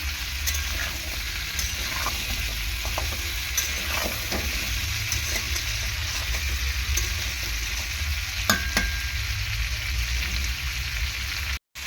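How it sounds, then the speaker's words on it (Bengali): Potato and pumpkin stir-fry in a pan for a vegetable dish with drumstick stalks and prawns, a steady close sizzle running throughout, with scattered scraping clicks of the spatula stirring the pieces. "আলু আর কুমড়োটাকে একটু কষিয়ে নেবো"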